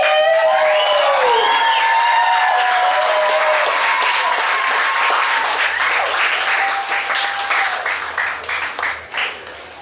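Audience applause at a pin-up contest fills the room, steady at first, then breaking into scattered claps as it fades out, over a background of music.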